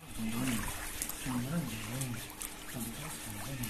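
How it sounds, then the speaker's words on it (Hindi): Water runs from a hose into a home swimming pool with a continuous trickling, splashing wash, heard under several people talking close by. "पानी खोल थोड़ी देर और।"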